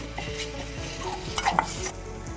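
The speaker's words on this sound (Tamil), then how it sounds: "அதையும் நல்லா இஞ்சி பூண்டு பேஸ்ட்டு ஸ்மெல் வர வரையும் ட்ரை ரோஸ்ட் பண்ணிக்கோங்க." Ginger garlic paste dry roasting in a pan while being stirred, with a soft continuous sizzle and repeated scraping strokes of the spoon, plus a couple of brief metallic clinks near the middle, no voices.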